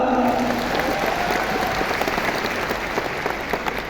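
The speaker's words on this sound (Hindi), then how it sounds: "9 साल के लिए ताली बजाओ एक बार" Large audience at a big company leadership convention applauding, a dense steady wash of clapping that holds throughout and slowly eases, with a few sharper claps near the front.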